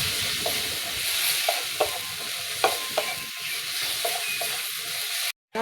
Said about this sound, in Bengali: ভালোভাবে নেড়ে চেড়ে মশলাটা ভেজে নেবো